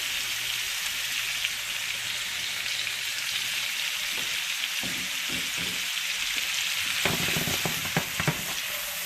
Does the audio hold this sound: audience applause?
no